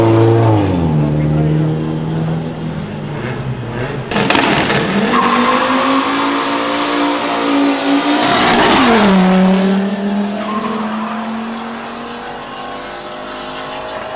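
A Fiat Marea pulls away hard at a car meet exit. The engine note climbs loudly, drops at a shift and climbs again through rising and falling sweeps. A burst of noise and voices can be heard near the car.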